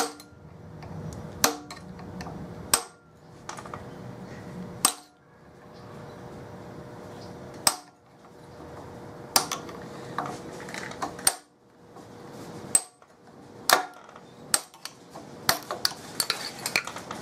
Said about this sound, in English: Use this ball peen hammer to tap it ever so gently to loosen it up.